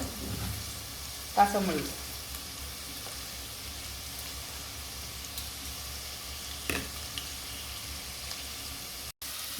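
Carrots, capsicum and cabbage hit hot oil with softened onion for fried rice, giving a steady loud sizzle and frying hiss throughout, with a couple of stirring scrapes and a brief spoken word over it.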